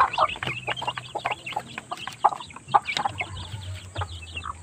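Asil hens cluck repeatedly in short, irregular bursts, with a few chicks cheeping nearby; moderately close and fairly quiet overall.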